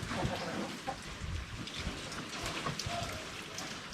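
Steady rain falling outside a workshop, a dense patter of drops on surfaces close by with occasional louder splashes and a low rumble underneath, with no talking.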